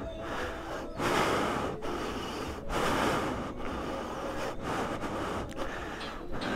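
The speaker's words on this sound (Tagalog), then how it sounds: "Hinihingal ako." Heavy, rapid panting after climbing to a view deck at Kitcharao above Lake Mainit, Agusan del Norte, Philippines: loud close breaths in and out in quick repeated bursts, with short pauses between, no words spoken.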